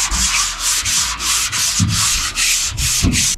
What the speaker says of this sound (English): So this is with 180 grit, and I kept on sanding till we feathered out these edges and everything was flat.